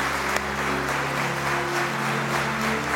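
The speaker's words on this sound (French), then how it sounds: "j'aimerais que vous les applaudissiez très très fort." A large audience claps loudly and continuously, a dense wash of applause filling the room throughout.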